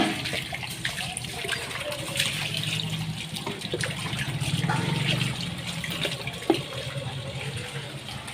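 Tap water runs steadily while feet are washed, a continuous close splashing hiss with a single sharp knock near the end.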